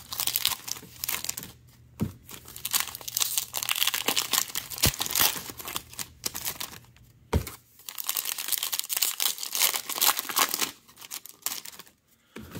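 Foil packs of 2021 Topps Finest baseball cards being torn open by hand, with steady crinkling and crunching of wrapper material close up, broken by a few brief pauses and sharp snaps, with no talking.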